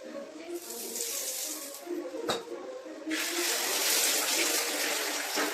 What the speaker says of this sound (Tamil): ஆயில் ஊத்துறோம்.